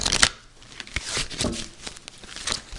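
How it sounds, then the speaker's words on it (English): Tarot cards are shuffled by hand in several quick riffling bursts with papery flicks and soft rustles, close up, no talking. "I'm going to go ahead and shuffle the cards"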